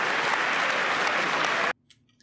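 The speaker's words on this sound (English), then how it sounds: "People were clapping." A crowd claps during a speech by Trump, heard as a played recording, with steady dense applause that cuts off abruptly near the end and leaves near silence.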